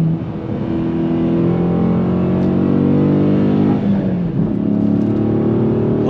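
A Dodge Challenger Scat Pack's V8 pulls on throttle in a loud, close sustained drone, holding a rich steady engine note that dips briefly as revs shift, with no talking over it.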